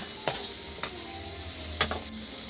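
Garlic and shallots stir-fried in a pan for a Thai chili paste with minced pork, a utensil scraping and tapping the pan a few times over a quiet, steady background.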